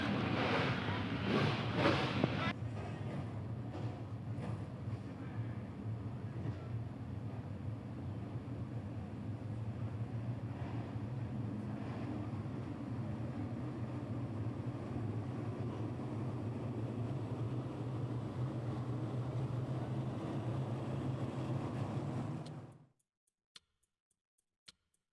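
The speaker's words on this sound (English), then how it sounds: "Drivers, start your engines." A field of 358 small block modified race cars idles and rumbles together at the Eastern States race, a loud steady low drone that holds for over twenty seconds, then cuts off abruptly.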